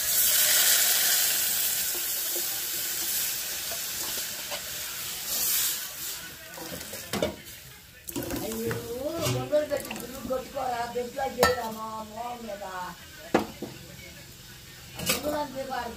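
Ground lentil batter hits hot tempering oil with fried onions and seasoning seeds, giving a loud, steady sizzle and hiss that runs for several seconds before easing, and then continues more faintly beneath a person talking.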